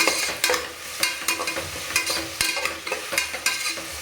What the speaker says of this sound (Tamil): ஒரே ஒரு தக்காளி மட்டும் கட் பண்ணி போட்டுக்கிறேன். நல்லா வதங்கட்டும்